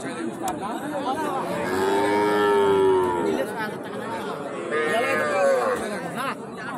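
Cattle, young heifers and calves, mooing at a rural cattle market, two long low moos close by over steady crowd chatter and people talking nearby.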